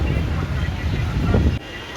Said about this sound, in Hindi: ठंडा ठंडा और प्यारी जी हवा चल रही है